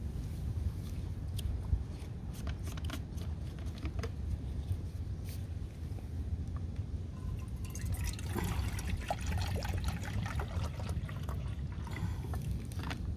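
Water pours steadily into a US Army mug on a mug cooker stand, a continuous splashing trickle with a few clinks, close by and with no one speaking.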